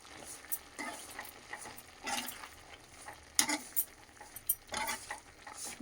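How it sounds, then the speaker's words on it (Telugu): A pan of tamarind and tomato chutney with salt, made with red chilies, being stirred in a series of irregular scraping and squelching strokes, close and moderately loud, with a light sizzle underneath and no voices. "ఇప్పుడు కలుపుకోవాలి."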